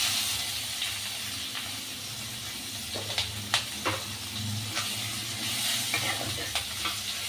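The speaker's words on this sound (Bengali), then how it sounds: "হিং রসুন এটা ভালো করে ভাজবো" Chopped garlic and green chillies fry in hot oil with asafoetida and panch phoron, a steady close sizzle broken by a few sharp crackles and stirring scrapes, with no talking.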